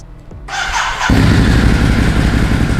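Ducati Hypermotard 950 motorcycle with L-Twin Testa Stretta engine cold starting: a brief starter whir, then the twin catches and settles into a loud, steady rumbling idle close by.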